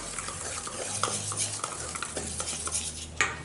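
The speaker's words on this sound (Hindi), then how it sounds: "और इसमें थोड़ा सा पानी डाल देंगे और फिर जल्दी जल्दी से आपको मिक्स कर लेना है" Biscuit-cake batter is briskly mixed in a bowl after a little water is added, for a cake made without an oven, a steady close scraping and clinking of a spoon against the bowl with a faint low hum underneath.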